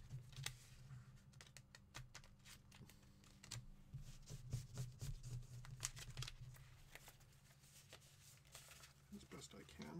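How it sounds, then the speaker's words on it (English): Monster cards from a dungeon board game being shuffled by hand, a run of quick papery riffles and flicks up close, steady through the clip and partly under a low background hum. "I'm going to make an attempt at shuffling these a little bit."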